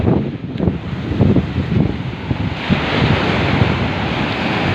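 Ocean surf and strong wind at Boca Beach, a loud continuous wash of waves with heavy gusts buffeting the microphone and no voices.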